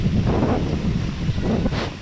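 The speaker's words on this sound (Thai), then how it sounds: "ลมเย็นเย็นครับผม ลมเย็นมากเลย ตรงนี้ลมเย็น" Cool wind blowing outdoors at a temple market area, a steady rumbling gust buffeting the microphone throughout, loud and close with no talking.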